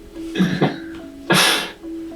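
Two quick human sneezes, the first a softer double burst and the second a louder explosive one, close to the microphone in a quiet room with a faint background hum.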